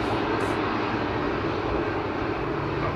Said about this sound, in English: A321 Neo rolling out.